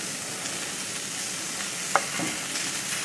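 Onions and mushrooms sauteing in olive oil in a pan, a soft steady sizzle with a brief clink of a utensil stirring partway through, faint and close, no talk.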